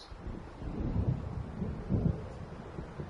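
Thunder from an approaching storm in the Alan Wake video game, a low rolling rumble that swells twice over steady windy noise, heavy and dull with no voices.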